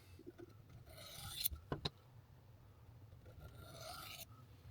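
A knife edge is drawn in very light, alternating passes along a Sharpal 1200-grit diamond rod, giving faint, soft rasping strokes. A couple of sharp metallic ticks come through against a quiet background.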